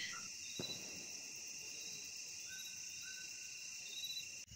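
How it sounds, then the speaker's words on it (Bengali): Crickets chirp steadily on a quiet evening in Kalimpong, a continuous high-pitched trill with brief lone insect calls over faint background, one soft knock early on. "এখানে শুধু ঝিঝি পোকার শব্দ, আর কোনো শব্দ নেই।"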